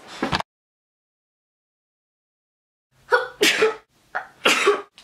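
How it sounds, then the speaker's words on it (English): A single sharp sneeze bursts out close and loud, then silence, followed by a few breathy coughs or sniffs afterward. "I think I just sneezed up a lung."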